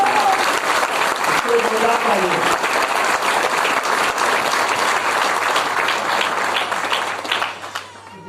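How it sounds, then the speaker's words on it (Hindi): The audience at an AWPL training session breaks into loud, dense applause that lasts several seconds with some voices mixed in, then quickly fades out. "एक बार उसको जोरदार तालियां।"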